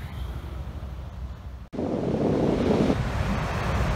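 Waves breaking on a beach in Valencia, Spain, a steady wash of surf with wind buffeting the microphone, growing louder and fuller after a brief dip in the middle, with no voices.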